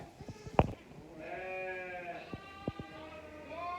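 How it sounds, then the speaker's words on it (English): A sheep bleats a few times on a farm during lambing season, drawn-out wavering calls, with a couple of sharp knocks and light rustling around them. "Oh, yeah, sheep."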